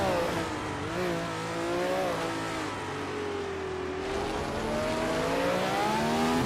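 Engines of racing cars roar continuously in a racing video game, with one 1967 Cooper T81B in the field, pitch rising and falling through shifts and corners, loud and steady throughout with no talk.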